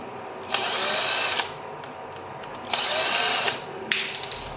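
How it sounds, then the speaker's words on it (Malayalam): A power screwdriver runs in three short bursts while four screws are taken out of a table fan's motor, each whirring run about a second long, close and fairly loud, with short pauses between them. "നാല് സ്ക്രൂ ഉണ്ട് ഇവിടെ നാല് സ്ക്രൂ വെച്ചിട്ട് ഇത് മോട്ടർ അഴിച്ചു"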